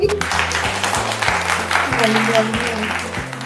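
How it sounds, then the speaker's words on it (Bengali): Audience applause for a team at an in-store family game show event, a steady burst of clapping with a voice talking over it. "টিম সি হাততালি"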